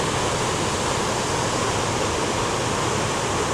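Cumberland Falls in Kentucky thunders into the pool below, a loud, unbroken, close-up roar of crashing water that never lets up.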